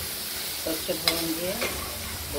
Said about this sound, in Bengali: কড়াইতে তেল গরম করেছি আর তাতে সর্ষে ফোড়ন দিয়ে আমরা ভাড়ালিগুলো দিয়ে দিয়েছি জলটা চিপে